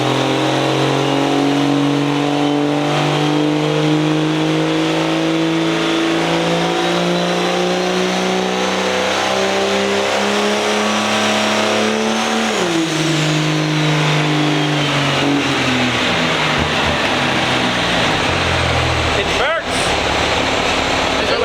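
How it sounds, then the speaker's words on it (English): A drag truck engine on a dyno revs loud and close, climbing in pitch through the gears with a clear shift drop partway through, then winding up again, with the engine alone throughout. "So we're gonna run this thing up and see if it goes through the gears."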